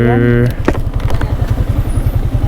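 Motorcycles at a crowded camping site in Real, Quezon, their engines idling in a steady low pulsing throb close by, opening with a brief tonal note.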